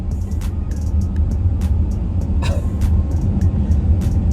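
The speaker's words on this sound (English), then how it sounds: "Every time I push that accelerator, it just jumps off" A Mercedes-Benz EQS 53 AMG electric car accelerating hard, heard from inside as a steady low road and motor rumble with faint high whines and clicks, loud and close, no talk.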